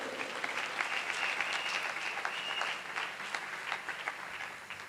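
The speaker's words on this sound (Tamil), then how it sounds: "இன்னொரு கைத்தட்டு." An audience at a Carnatic music school's twentieth anniversary celebration claps in sustained applause, a dense crackle of many hands that stays steady for several seconds and then slowly tapers, with no speech over it.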